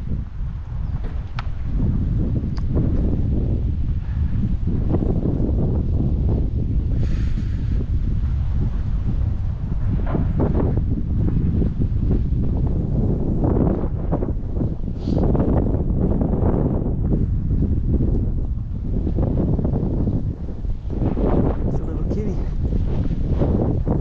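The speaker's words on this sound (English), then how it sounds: "The wind is crazy." Strong wind buffeting the microphone on an outdoor walk, a loud continuous low roar with gusty swells throughout, and a voice speaking briefly beneath it.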